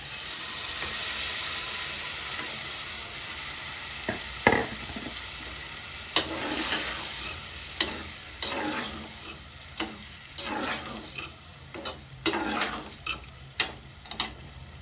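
Mashed elephant foot yam being stirred with tamarind water in a pan, a faint sizzle under a series of distinct scraping spoon strokes, irregular and close, about a dozen over the stretch.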